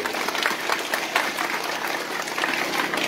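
An audience applauds teachers at a school performance event, a steady dense wash of clapping that holds at even loudness throughout, close and full with no voices standing out.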